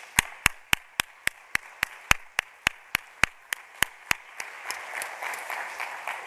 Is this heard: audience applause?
yes